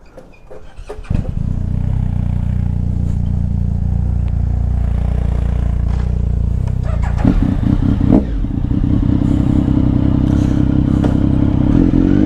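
A Suzuki GSXR 750 motorcycle engine cranks, catches and settles into a loud, close, steady idle, then blips upward into a rougher, busier rev near the end.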